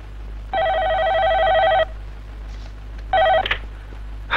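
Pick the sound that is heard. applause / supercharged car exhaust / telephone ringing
telephone ringing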